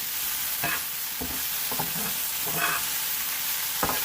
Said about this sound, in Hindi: और ये 2 हरी मिर्चें हैं, इसकी हमने डंडियाँ नहीं उतारी, इसको भी हम इनके साथ ही फ्राई कर लेंगे